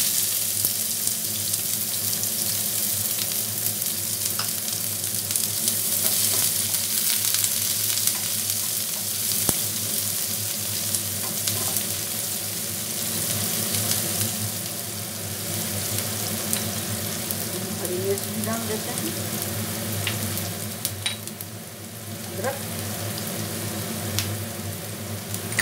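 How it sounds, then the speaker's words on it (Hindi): Onions and a little ingredient sizzle steadily as they fry in butter in a pan for a healthy breakfast dish, a continuous close crackle with occasional stirring scrapes and no talking. "प्याज डाल देते हैं"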